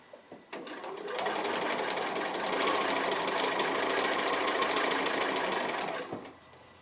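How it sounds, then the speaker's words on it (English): A sewing machine doing free-motion appliqué stitching runs in one continuous fast, rattling burst of needle strokes for several seconds, close and loud, starting and stopping abruptly. "The stitch length is governed by how fast we move the fabric when you're doing free motion."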